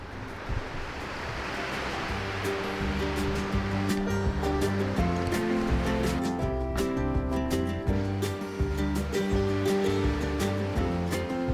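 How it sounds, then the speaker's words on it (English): Ocean waves break on a quiet beach in Lagos, Portugal, giving a continuous rushing surf roar with wind buffeting. Sustained musical tones sit over the water sound. "I'm just here by myself on this amazing beach."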